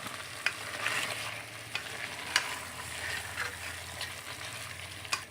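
Cauliflower stalks and mutton cooking together in a pot for gobhi gosht, giving a low, steady sizzle with soft stirring scrapes and occasional light clinks.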